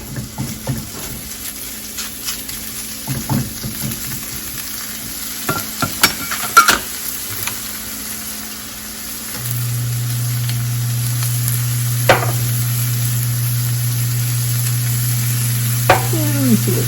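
Ground beef hits a pan for a Meximelt and breaks into a loud, steady sizzle that holds for the last several seconds, after earlier stirring and scraping.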